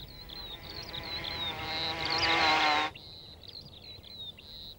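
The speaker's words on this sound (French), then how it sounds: "Les polistes sont une famille de guêpes sociales primitives." Paper wasps (Polistes) buzz loudly near the microphone. The drone swells for nearly three seconds, then cuts off abruptly, leaving a fainter, wavering high buzz.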